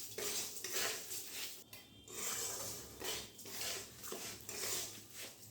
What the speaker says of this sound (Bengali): এবারে এই চালগুলো এই তেলের সঙ্গে খুব ভালো করে একটু ভেজে নিতে হবে।